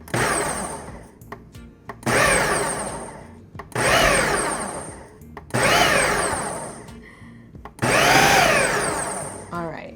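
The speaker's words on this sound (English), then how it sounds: "we're gonna pulse it a few times to get them broken up" A blender pulsing cherries, five loud, close motor bursts of about a second each with short quiet gaps between them, the whirring rising as each pulse chops the fruit.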